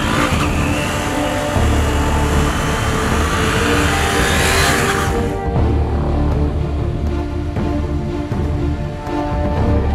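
A 2017 KTM Duke 250 motorcycle engine revs hard and loud throughout a road test ride, rising in a bright climbing whine before the pitch drops and the engine keeps droning at high volume.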